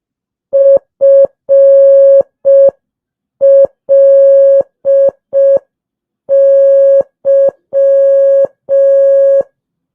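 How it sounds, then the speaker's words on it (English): A clean single-pitch tone beeps out Morse code, mixing short dots and longer dashes in three distinct groups separated by pauses, loud and alone. "What word am I spelling out in Morse code?"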